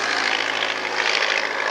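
A Royal Aircraft Factory S.E.5a biplane with a 150 horsepower engine drones steadily overhead at a wartime-themed airshow, a continuous even propeller roar at moderate distance.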